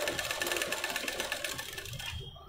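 A sewing machine runs fast and steadily, stitching lace onto the edge of a blouse. Its close, even whirring chatter continues for over two seconds before stopping.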